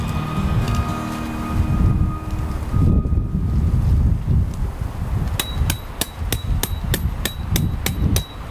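Strong, cold wind buffets a campsite on a chilly spring day, a loud continuous roar gusting against the microphone, joined near the end by a run of sharp, evenly spaced metallic taps like a hammer striking a tent stake.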